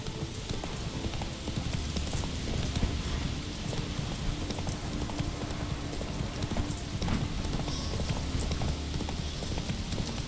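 A horse gallops in The Witcher 3 video game, with a continuous, fast drumming of hooves on the ground and dense, rhythmic clip-clop that runs throughout, loud and close.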